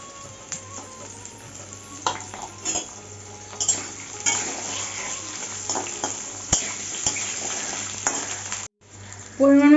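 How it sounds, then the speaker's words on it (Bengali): Potatoes, carrots and sweet potato fry in a pan with a steady sizzle, while a utensil stirs and scrapes against the pan in repeated clinks and knocks, all close and fairly loud. "আলু আর গাজর একসঙ্গে ভেজে নিচ্ছি মিষ্টি আলুটাও দিয়ে দিচ্ছি"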